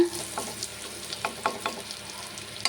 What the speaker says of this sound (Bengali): এই হিংটা ফোড়ন দেব